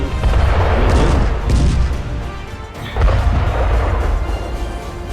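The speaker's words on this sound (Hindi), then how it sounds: "भीष्म 1 मिनट में 7 राउंड्स तक फायर कर सकता है।" Heavy booming blasts from the main gun of an Indian Bhishma tank, two big reports with rumbling tails over loud background noise.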